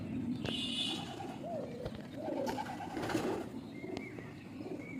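Pigeons in a high-flying breed loft in Ranihati, Howrah, coo softly amid a busy bed of background noise, with scattered chirps and faint rustles.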